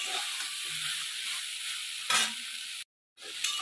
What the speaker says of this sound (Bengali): ভালো করে সোয়াবিনটা আমি ভেজে নেব।